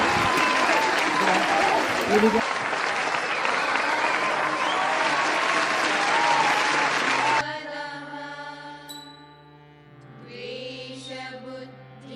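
Loud, dense clapping from a school crowd for class 9th at a farewell ceremony carries on for about seven seconds, then stops abruptly and talking and background voices take over.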